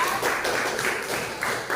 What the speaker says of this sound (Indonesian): tepuk tangan kepada kelompok 4